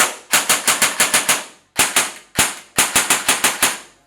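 A custom foam blaster firing in rapid bursts of sharp, loud, evenly spaced cracks, a run of about seven shots, a short pair, a single shot, then another burst, close and with no talking.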